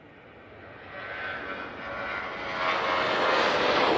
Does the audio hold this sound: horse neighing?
no